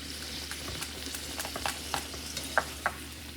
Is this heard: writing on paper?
no